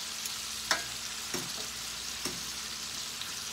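Chicken pieces browning skin-side in hot oil in a pan, a soft, even sizzle running throughout, with several light taps and nudges from a utensil.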